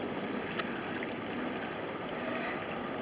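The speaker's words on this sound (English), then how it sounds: "It's one of those streams I like." A small outdoor stream flows steadily close by, a continuous broadband wash of running water with no voices over it.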